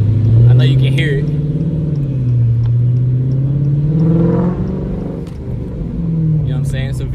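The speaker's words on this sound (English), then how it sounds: "It's a V4 engine swap." A car fitted with a V4 engine swap idles and revs nearby, a loud low throbbing engine note rising and falling, with people talking over it.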